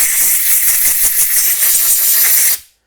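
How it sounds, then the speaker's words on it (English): Compressed air blasts through a small engine carburetor part from a Briggs & Stratton mower, a steady loud hiss lasting over two seconds before cutting off abruptly. "Now I will air blow this here part again where the module goes in."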